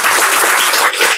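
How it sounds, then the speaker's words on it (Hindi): Audience at a devotional kirtan gathering clapping loudly, a dense steady wash of many hands sustained throughout without pause, close and full. "जोर से ताली दो"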